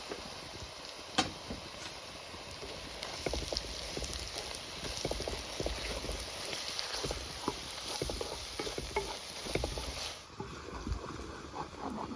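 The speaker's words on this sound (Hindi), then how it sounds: "ये सभी मसाले जो हैं ये इसमें फ्राई कर लेंगे थोड़ा सा बाकी चीज़ों के साथ" Spices and fenugreek frying in a pan for village-style matar masala: a steady, close sizzle and crackle with fine popping and occasional louder spits, alone without speech.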